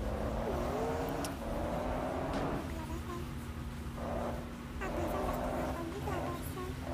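Bus engine in Bus Simulator Indonesia accelerating near Merak harbour onto the main road, a steady rising engine drone with gear-shift steps under brief chatter.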